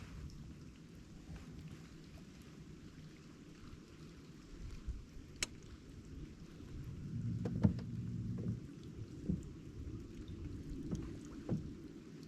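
Steady rain pours down during a rainstorm while bream fishing from a boat, a dense continuous wash with a few louder drips and knocks toward the end, no voices.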